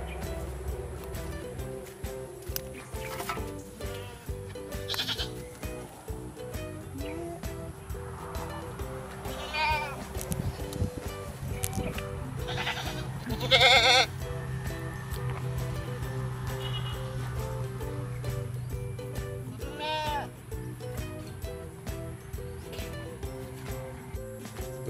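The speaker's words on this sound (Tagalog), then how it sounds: "Goats, goats, goats." Nubian goats bleat repeatedly on a farm, several calls rising over a steady background hum, with one louder, closer bleat standing out midway.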